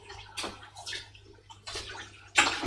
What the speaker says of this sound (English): just rinse my spoon off so that the vegans don't complain at me.